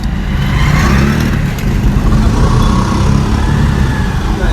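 A learner car pulls away at a driving school, its engine revving in a steady, loud mid-range drone with low road rumble and faint speech underneath.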